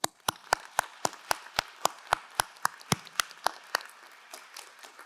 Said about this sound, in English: I would like to ask the class of 2026 to join in a round of applause for